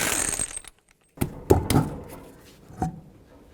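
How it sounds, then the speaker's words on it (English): Lug nuts clank and rattle off a rear wheel of a 2003-2007 Nissan Murano with a 21mm socket, a few sharp metallic clicks and knocks with short pauses between them, close by and alone. "take the wheel off, 21mm socket, remove all 5 of your lug nuts"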